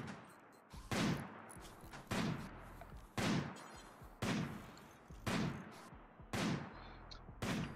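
Turret gunfire in a base-defense video game, a series of sharp, loud booming shots spaced roughly once per second with short rumbling tails, heard alone without talk.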